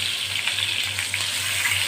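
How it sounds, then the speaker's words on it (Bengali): Rohu fish pieces fry in oil in a pan, a steady close hiss of sizzling that runs unbroken through the whole moment with no voices. "আগে মাছটা আমি একটু ভেজে নেবো"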